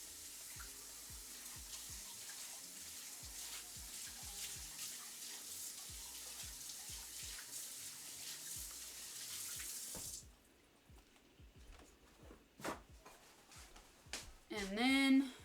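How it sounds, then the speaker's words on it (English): Tap water runs steadily into a sink, rinsing out a bowl while cooking borscht, a continuous splashing stream for about ten seconds before it shuts off, followed by a few clinks and handling sounds. "I got to rinse this bowl out"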